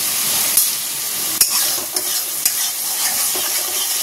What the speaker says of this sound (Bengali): দিয়ে বেশ করে ভালো করে কষিয়ে নেব